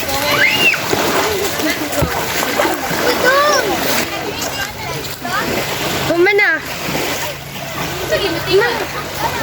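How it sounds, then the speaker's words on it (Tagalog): Sea water splashes continuously while children swimming shout and chatter nearby, a lively, busy mix with someone talking over it. "Nagtangkisaw na sa dagat ang mga kabataan."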